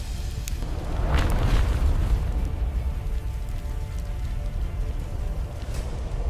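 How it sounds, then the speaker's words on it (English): A deep volcanic eruption rumbles continuously, swelling into a heavier booming surge early on before settling into a steady, dense roar with faint crackling, and no voices. "The volcanic activity eventually ignited these underground reserves, adding their combustion to the global disaster."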